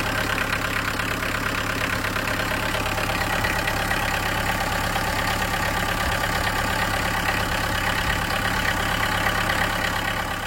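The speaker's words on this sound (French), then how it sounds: "Je vais vous démarrer le moteur." The engine of a Citroën C25 camper van idles with a steady, even mechanical rumble and a faint ticking rhythm, close up and unbroken throughout.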